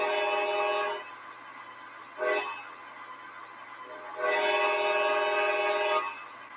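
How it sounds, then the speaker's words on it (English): An ALCO model locomotive sounds its grade crossing horn signal, a long blast, a short toot, then another long blast, loud and clear with no voices. "It also does the crossing."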